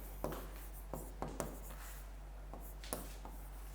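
Writing on a classroom board comes through as a handful of quick, scratchy strokes and taps, spaced irregularly over a low steady hum, close by and fairly quiet.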